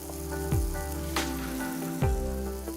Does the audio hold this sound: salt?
yes